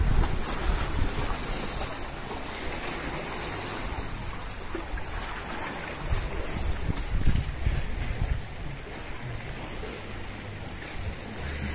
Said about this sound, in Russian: Пойдемте сразу посмотрим пляж.